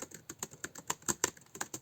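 Someone types on a Dell Latitude C610 laptop keyboard, producing about a dozen and a half crisp, clicky keystrokes in a quick, irregular rhythm, close and alone.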